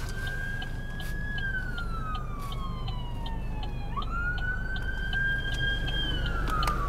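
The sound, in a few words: ambulance siren passing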